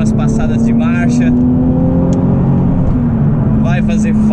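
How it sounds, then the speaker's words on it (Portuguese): Nissan 370Z NISMO accelerating and shifting gears, with a steady engine drone running throughout under someone talking over it, and the engine pitch shifting as gears change. "curtindo as últimas aceleradas, as últimas passadas de marcha"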